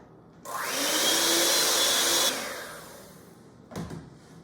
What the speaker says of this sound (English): And you can continue to beat your batter.